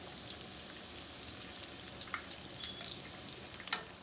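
Philly cheesesteak and chicken egg rolls frying in hot oil, a steady close sizzle with scattered pops and crackles throughout, no voices.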